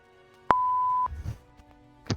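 A single electronic backup beep from a reversing truck rings out, followed by scattered low rumbling and clatter, with no talking.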